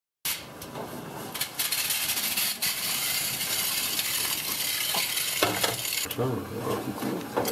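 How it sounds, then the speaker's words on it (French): Hot oil heating on a stovetop for a Bresse-style fondue spits and crackles in a dense, steady sizzle, with a few sharper pops and light clatter throughout. "Ça crache. Allez, là c'est parti, l'huile est en chauffe."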